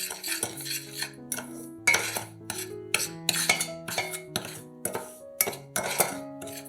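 A metal spoon stirs dry sugar and cocoa around a saucepan in quick repeated strokes, ringing clinks and scrapes close up, with no talking.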